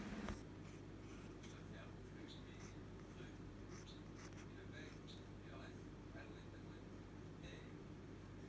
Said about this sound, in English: Now all you have to do is just draw your little face on that.